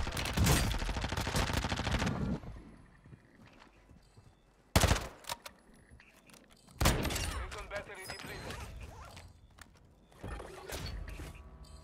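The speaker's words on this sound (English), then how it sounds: "I'm getting shot at" Bursts of automatic gunfire in a shooter on Ashika Island, a dense rattling volley at the start and then separate loud cracks and shorter bursts later, with a player talking between them.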